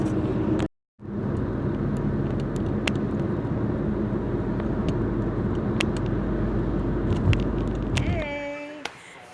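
A car drives across the Mackinac Bridge, its steady road and tyre drone filling the cabin, broken by a brief dropout near the start, then fading out near the end with some faint interior noises.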